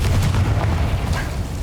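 Heavy, rumbling explosion from the Confringo fire spell in Hogwarts Legacy, a short loud boom with a dense low-end roar and no talking.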